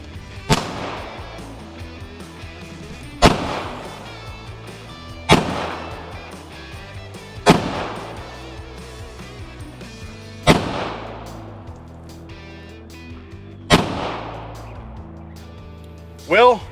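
9mm pistol target rounds fired at a cast iron Peerless 2300 transmission outdoors give six sharp, loud shots spaced a few seconds apart, each with a ringing decay and echo.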